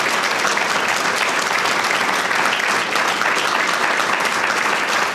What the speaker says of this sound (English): the applause tells me we're in this together